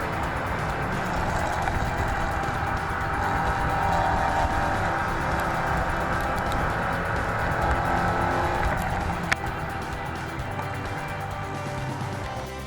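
Porsche 944 race cars roar around the Phillip Island GP Circuit, engines droning loudly and continuously as they run nose to tail, with a sharp click near the end.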